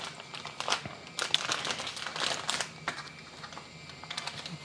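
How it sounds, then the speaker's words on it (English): Two ground beef patties slid into a large Ziploc bag in a kitchen, with crisp plastic crinkling and rustling in quick irregular bursts, close and fairly quiet, no talk. "I'm putting 2 patties in a large Ziploc bag"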